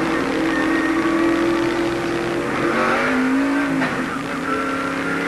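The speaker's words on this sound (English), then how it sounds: "he's restarting the car" A race car engine at Watkins Glen during the 1997 NASCAR race, firing up and revving loudly with rising and falling engine tones over constant track and crowd noise.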